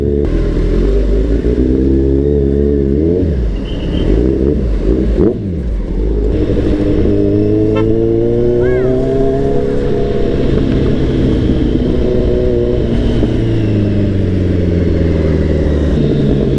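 A Kawasaki Z1000 motorcycle rides through traffic, its engine loud and close with rising and falling revs, steady cruising drone and brief throttle blips as it weaves between vehicles.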